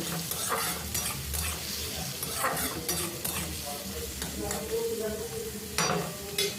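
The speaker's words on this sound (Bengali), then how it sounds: "পেঁয়াজটা হালকা ভেজে নিতে হবে" Chopped onions fry lightly in a pan, a steady close sizzle broken by repeated scraping stirs of a utensil against the pan.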